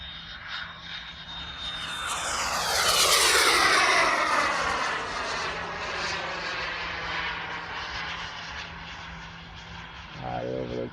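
A giant scale T-38 Talon RC model jet flying a loop, its turbine whine rising to a loud roar as it passes close, then fading and shifting pitch as it climbs away.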